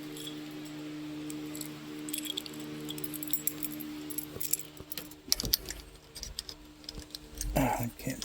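A set of keys is pulled from a pocket while working on a race car, jangling and clinking in scattered bursts over a low background hum, growing busier toward the end.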